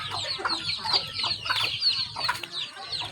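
Chickens cluck in repeated bursts on a small self-sufficient family farm that also raises ducks, close and fairly loud, with irregular calls over a faint low background hum.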